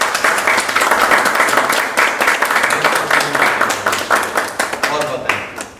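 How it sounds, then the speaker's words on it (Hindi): A group claps hands during an outdoor leadership team-building exercise, dense and fast clapping sustained throughout, close and fairly loud, with talk mixed in. "ताली लगाओ।"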